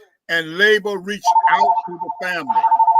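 A mobile phone rings during a political roundtable discussion, its steady electronic ringtone repeating in regular bursts under and between a man's speech, fairly loud and close.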